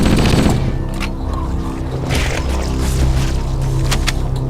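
Sustained alien energy-weapon fire from a Covenant gun in Halo: Combat Evolved on PC, a dense continuous burst of rapid shots running the whole stretch alongside game effects, loud and close.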